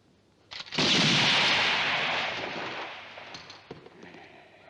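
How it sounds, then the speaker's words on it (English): A single heavy gunshot fired at a target in a 1970 Gothic western, a loud broadband blast with a long rumbling decay that fades over several seconds. "Mighty good shooting."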